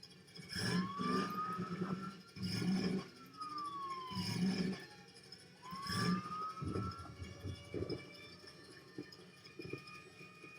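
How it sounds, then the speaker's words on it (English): Emergency sirens wail in the Garry's Mod tornado chasers game, rising and falling in repeated sweeping tones over a rumbling background, loud and with no talking. "Sirens."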